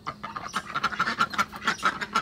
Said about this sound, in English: But there's our ducks.